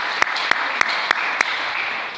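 A church congregation claps along to a worship song, five sharp rhythmic claps spaced evenly about a third of a second apart, standing out over a steady sustained musical bed.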